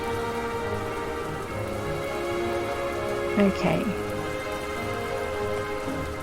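Steady rain in the video game My Time at Portia patters evenly throughout, with a brief voice speaking over it midway.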